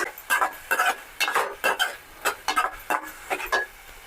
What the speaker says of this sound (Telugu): ఒక స్పూన్ పసుపు వేసుకోవాలి. పసుపు వేసిన తర్వాత కలుపుకోవాలి.